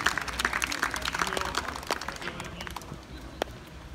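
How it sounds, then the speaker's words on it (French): Spectators applaud the players at the final of a pelota tournament, a steady patter of scattered outdoor clapping that thins out over a few seconds, with faint crowd noise underneath. "Allez, on applaudit les joueurs."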